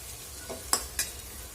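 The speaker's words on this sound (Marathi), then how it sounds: "परतून घेऊया" Masala for Kolhapuri misal is stirred and sautéed in a pan: two brief, quiet scrapes of a spoon over a faint, steady sizzle.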